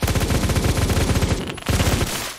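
Rapid automatic gunfire in the shooter game Phantom Forces, a loud, dense stream of shots with a brief pause midway before the burst resumes, no voices.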